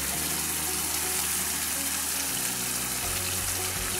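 Yogurt goes into a hot pan of green beans and chicken, giving a steady, moderate sizzle and hiss that continues without a break and without talk.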